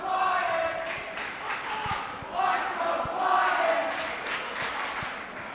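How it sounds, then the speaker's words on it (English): Crowd in a high school gym cheering on Haddam Killingworth during a boys basketball game against Morgan, a sustained, swelling roar of voices with scattered shouts and sharp thuds from the court. "As the Den is cheering on HK."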